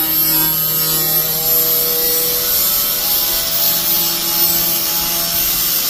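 A grinder bevels the metal edge of an S-10 truck bed, a loud, steady, close abrasive whine with ringing tones that runs unbroken and alone throughout, without speech.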